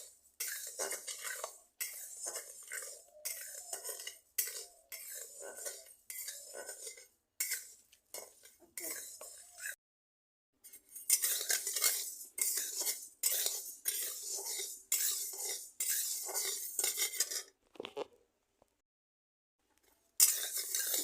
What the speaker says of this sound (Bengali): চালগুলো ভেজে নিচ্ছি আর একটু সামনে আর একটু সামনে ভেজে নিচ্ছি